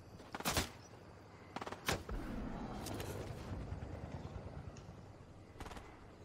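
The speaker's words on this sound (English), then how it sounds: "Are there people shooting at us?" Gunfire from other players in a Fortnite match: a few sharp, separate shots cracking out near the start and middle, followed by a long rough wash of rumbling noise and fainter pops further off.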